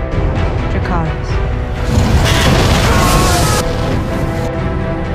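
A dragon breathing fire: a loud, continuous roaring rush of flame over a deep booming rumble that swells in the middle and holds steady to the end.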